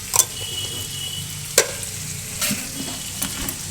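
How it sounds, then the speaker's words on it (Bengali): Lentil fritters (bora) fry in plenty of oil, a quiet continuous sizzle with a few brief clinks and stirring taps. "হচ্ছে বড়া ভাজা"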